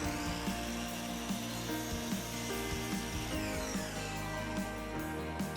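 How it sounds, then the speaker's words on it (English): A chop saw cuts a wooden dowel into short handle pieces, giving off a steady, dense whining buzz with slight pulsing, close and continuous. "I went back over to my chop saw to cut my dowel into 2 9-inch pieces for the handles"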